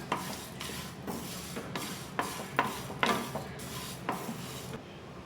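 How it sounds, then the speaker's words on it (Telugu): Star anise and cumin seeds frying in a pan for a chicken pickle, heard as repeated metallic stirring scrapes and clinks of a utensil against the pan over a soft sizzle, steady and close. "అనాస పువ్వు, అనాస మొగ్గ, 1 టీ స్పూన్ జీలకర్ర అన్నీ వేసుకొని ఫ్రై చేసుకోవాలి"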